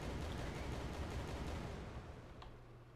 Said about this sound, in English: I'm going to just throw a whole bunch of grenades